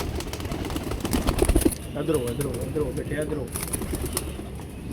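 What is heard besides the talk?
pigeons cooing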